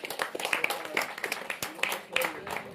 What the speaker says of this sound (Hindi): अब ये पूरा एनर्जी के साथ इनको गिर रहे हैं, इसीलिए जोरदार ताली हो जाए।